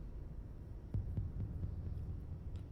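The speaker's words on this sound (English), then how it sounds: "You hear that, like, drum beat in the background? Sounds like a heartbeat, but intense." Video game music from Mass Effect carries a heartbeat-like drum beat: low, muffled thumps pulse in a slow, throbbing rhythm beneath a steady droning hum, faint and dark in tone.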